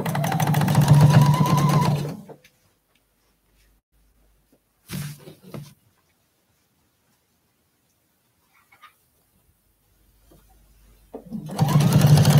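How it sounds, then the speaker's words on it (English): A sewing machine stitches the last seam of a quilt binding, loud and close in a fast, steady whir at the start, quiet for a long gap with a brief burst in between, then running hard again at the end. "Sewing my last seam."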